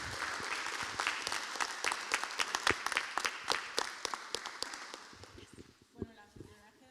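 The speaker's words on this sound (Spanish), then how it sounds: "les quiero pedir un aplauso para Cristina Alonso" A seminar audience applauds a guest host, a burst of many clapping hands with distinct sharp individual claps, tapering off as a voice begins speaking at the end.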